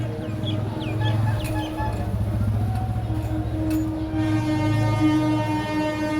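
A Darjeeling Himalayan Railway train rolls toward Ghum station in Darjeeling with a steady, loud rumble and rhythmic clatter throughout, plus sustained tonal whines; a rooster crows faintly near the start.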